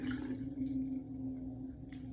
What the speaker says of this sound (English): And then just rinse.